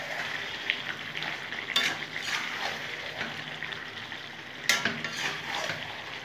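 Vegetable curry with boiled vegetables and scattered coriander leaves stirred in a frying pan, a steady low sizzle with two sharper scrapes of a spatula against the pan, close and alone.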